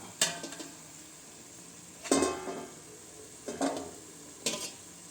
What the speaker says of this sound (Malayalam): നമ്മളിവനെ ചെറിയ തോതിൽ ചെറിയ തോതിൽ വഴറ്റി വഴറ്റി അവനെ എടുക്കുകയാണ്